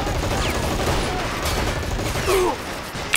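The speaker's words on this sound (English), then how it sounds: "I hear that MG firing" A machine gun in the war strategy game Men of War: Assault Squad rattles in a sustained rapid stream of shots, steady and moderately distant amid battle noise.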